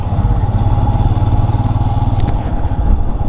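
A motorcycle rides the narrow mountain road from Leh to Sarchu over Tanglang La pass, with a steady loud engine drone and wind roar continuing throughout from the rider's position.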